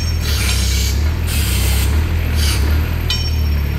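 Close, loud hydraulic hissing comes in several separate surges as the side shift works on a 2014 Moffett M55 truck-mounted forklift, over the steady drone of its idling Kubota engine.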